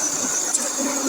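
A radio-controlled pulling truck at full throttle gives off a steady, high-pitched engine whine with a hissy edge, loud and unbroken through a short burst.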